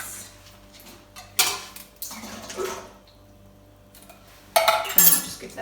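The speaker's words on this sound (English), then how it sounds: "So the next thing we need to do is drain the borlotti beans" Canned borlotti beans being drained into a sieve, with sharp clinks and clatters of metal and dishes in bursts amid quieter stretches of running water and handling noise.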